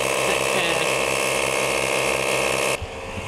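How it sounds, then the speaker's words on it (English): A Jeep tire being aired back up on an Oregon trail: a loud, steady mechanical drone of an air compressor runs continuously nearby, then cuts off abruptly near the end. "Now we're airing his tire just back up."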